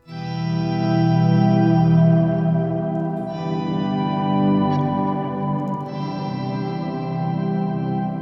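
Thick, swelling ambient guitar tones through an octaver pedal, with deep low doubling and washy echo, drone continuously, overlapping and fading into one another without clear attacks.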